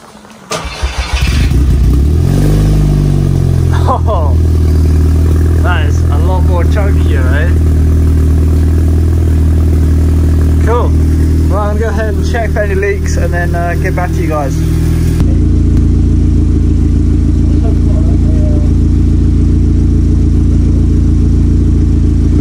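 Audi S3 8P cranking and starting with a Cobra full exhaust while raised on jack stands, a loud close engine catching and settling into a steady rumbling idle as people talk nearby.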